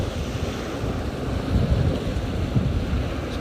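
Ocean waves wash in by the water, a steady surf rumble with gusts of wind buffeting the microphone and a few slightly louder swells rising midway, with no voices.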